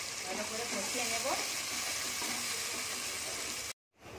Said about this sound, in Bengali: এবার দিয়ে দেবো টমেটো কুচি, এবার দিয়ে দেবো পেঁয়াজ, আদা, রসুন বাটা, ভালো করে কষিয়ে নেব